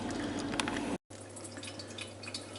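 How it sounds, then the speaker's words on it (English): Water from a secondary pot poured over a bed of grains during an all-grain stovetop sparge gives a steady close splashing and dripping pour, with one brief break near the middle. "I'm going to chuck the water over the top of that from the secondary pot"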